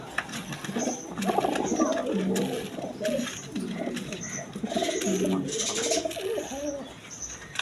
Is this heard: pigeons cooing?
yes